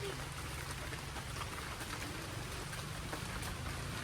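Light drizzle falls at La Mesa Dam as a soft, even patter of rain, faint and constant throughout.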